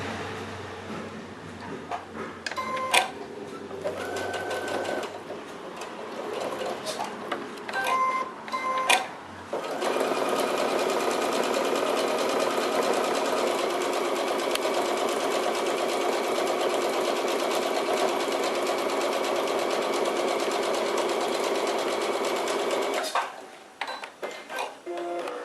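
Sewing machine topstitching a fabric seam on a small fabric-scrap zip pouch: a few short stop-start bursts, then a long steady close-up whir of stitching lasting about fourteen seconds before stopping.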